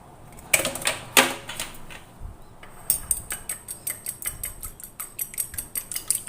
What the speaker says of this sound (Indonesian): Kocok lepas saja telurnya.